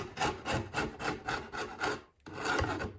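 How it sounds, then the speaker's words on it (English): Propolis being scraped off beehive parts, a steady rhythmic rasping like scraping paint, about six close, loud strokes in a row, then a brief pause before scraping resumes. "if anybody wants to come and help clean off propolis, all you gotta do is, it's like scraping paint"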